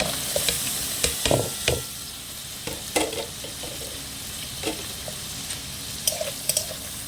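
Fried shrimp in a pan as spice paste is added and stirred in, for a gourd-leaf bharta. Soft sizzling runs throughout, broken by sharp scraping clinks of a spatula against the pan, close by with no talk.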